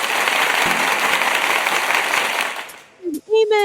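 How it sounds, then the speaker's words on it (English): A crowd at a TGIF throwback nostalgia night breaks into steady, full applause for over two seconds, then it cuts off abruptly and a voice starts speaking. "Does it deserve an intense applause?"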